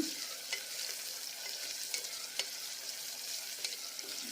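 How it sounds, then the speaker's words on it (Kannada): A steady sizzle of onions frying in a pan for mushroom biryani, with faint scrapes and clicks from stirring now and then. "ಈರುಳ್ಳಿ ಫ್ರೈ ಆಗ್ತಾ ಇರ್ತವೆ."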